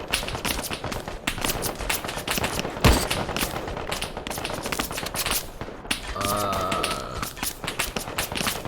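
Dense gunfire from shooting zombies in the video game Call to Arms, a steady stream of rapid shots and bursts over constant battle noise, with a brief tonal sound near the end.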